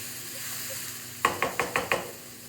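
Vegetables frying in a small amount of oil in a pan, a steady soft sizzle with five quick, evenly spaced spatula knocks against the pan near the end.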